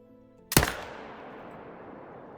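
A single rifle shot from a hunter firing at a fabled fallow deer in theHunter: Call of the Wild, loud and close, cracking sharply then fading into a long rolling echo over quiet ambience.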